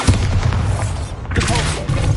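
Bombarda blasting spell from a Harry Potter video game, heavy booming explosions with rumbling thuds in quick succession, loud and close.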